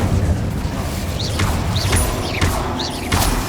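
Incendio fire spell cast in Hogwarts Legacy, heard as a run of loud whooshing fiery bursts with thuds, roughly one every second, over a dense game soundscape with swooping high tones.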